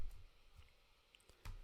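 A computer mouse clicks while someone edits a blog page. There are a few faint, sharp clicks, spaced apart against a quiet room.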